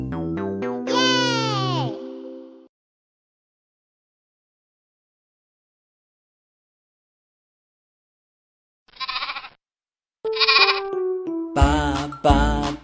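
Sheep bleating in a children's nursery rhyme song, a long wavering bleat at the start followed by a pause, then shorter bleat-like calls and sung notes near the end.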